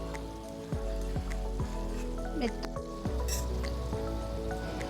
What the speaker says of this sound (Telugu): ముక్కలు చూడండి ఇక్కడ ఉడుకుతుంది కొంచెం దగ్గర కూడా అవుతుంది పులుసు